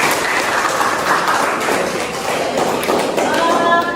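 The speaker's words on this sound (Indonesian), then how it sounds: "Terima kasih tepuk tangan." A classroom group claps after a group presentation in a teacher-training session, a dense, steady patter of many hands applauding nearby for the whole stretch.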